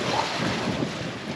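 Wind and surging sea wash around a sailing boat beating upwind into easterly waves, a dense, steady roar of water and air with no voices.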